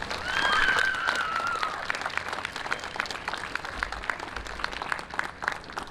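A crowd gives another big round of applause for graduating seniors at a high school awards night, with steady, dense clapping that fills the hall and a few cheers and whoops rising in the opening seconds.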